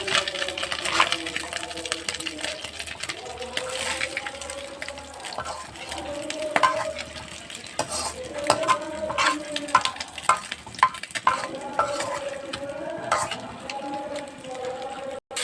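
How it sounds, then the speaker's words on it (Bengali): Small kachki fish frying in a pan of oil, a steady crackling sizzle with scraping stir strokes of a spatula throughout, close and continuous, with faint speech in the background at times. "বাকি মাছটা ওইভাবে ভেজে নেব।"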